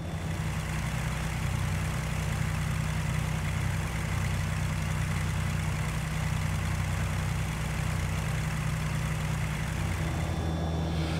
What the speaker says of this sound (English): so you can hear the engine as she's running